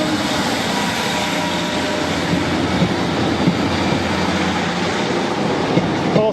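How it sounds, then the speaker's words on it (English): An old single-coach diesel train on a rural branch line passes close by, its steady loud rumble and rail noise holding throughout with faint clicks of the wheels. "there goes the old single coach train"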